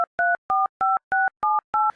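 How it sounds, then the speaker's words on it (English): Touch-tone push-button phone keys dialed in a steady sequence of seven loud, clean two-note beeps, each short tone separated by a brief silence. "7, 8 on a touch-tone phone"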